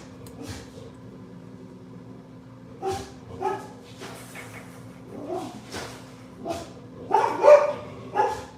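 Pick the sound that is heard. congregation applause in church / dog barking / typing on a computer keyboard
dog barking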